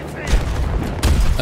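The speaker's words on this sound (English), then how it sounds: "That's a grenade." A grenade explodes in the Battlefield video game, a loud, close, heavy burst over ongoing gunfire and battlefield noise.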